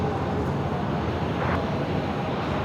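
An American Airlines A321neo airliner departs Phoenix airport, giving a steady, loud broadband engine roar without pause, with some wind buffeting on the microphone and no talk.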